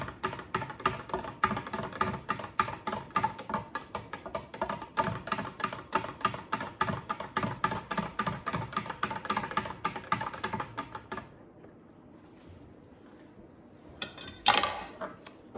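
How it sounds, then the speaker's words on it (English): A spoon clinks quickly and rhythmically against a container while kefir is stirred into a litre of milk, close and bright. The clinking stops, then a brief louder clatter follows. "I'm just going to give that a stir"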